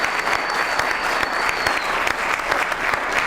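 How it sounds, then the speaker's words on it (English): An audience at a college elevator pitch competition applauds the judges, a dense, steady wash of many hands clapping, loud and sustained across the whole stretch without talking. "Let's give them a round of applause."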